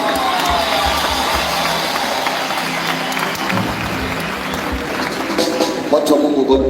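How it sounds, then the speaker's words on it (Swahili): Church congregation applauding after a prayer, a steady, dense wash of clapping that fills the whole stretch without a break, with crowd voices murmuring underneath. "Mpe Yesu makofi mazuri."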